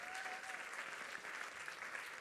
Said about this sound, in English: I want you to get an applause, guys.